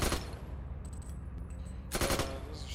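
Bursts of machine gun fire ring out in a World War II game set during the Poland campaign, a loud rapid rattle at the start and again near the end with quieter gunfire between.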